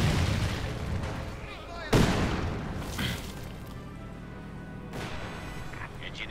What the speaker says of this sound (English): More incendiary artillery going on here.